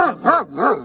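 Three quick, close barks from a dog in a steady rhythm, loud and clear with no other sounds.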